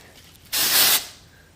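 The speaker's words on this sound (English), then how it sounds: "get a little spray on the roots" A single short burst of texture spray hisses close by onto hair roots for about half a second, then fades into quiet.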